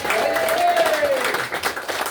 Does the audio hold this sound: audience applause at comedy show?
yes